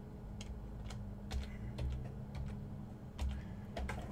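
Rapid, steady typing on a computer keyboard, close and fairly quiet, with a few slightly louder key presses and no talking.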